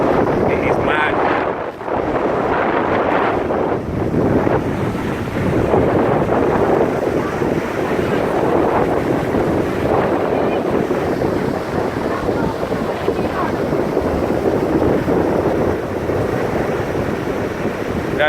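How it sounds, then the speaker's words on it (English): Rough surf pounds a Barbados beach during Hurricane Maria, a loud continuous roar of waves blended with heavy wind buffeting the microphone, steady and close throughout. "The sea is really kicking up."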